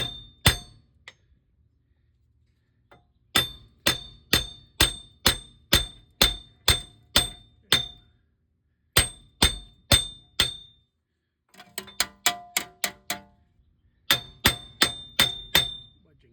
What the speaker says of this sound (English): several pounds of pounding with hammer, and it's gone